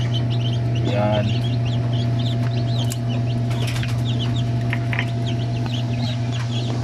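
Chicks newly hatched at 20 days chirp inside an automatic incubator, a steady hum running under scattered high peeps, and a person says a word briefly.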